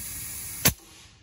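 Compressed air gives one short, sharp hiss as it is pushed into a fitting during a leak test, a brief close burst that cuts through steady background noise.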